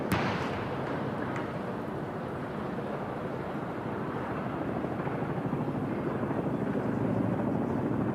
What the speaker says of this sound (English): There's a really deep downdraft and rumble as they go over here